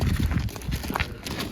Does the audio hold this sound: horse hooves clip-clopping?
yes